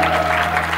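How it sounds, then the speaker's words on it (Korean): Concert audience at a youth showcase applauding after a vocal performance. A brief, loud burst of dense clapping lasts under a second, with a faint steady hum beneath it. "두 분에게 더 크게 박수를 주시기 바랄게요."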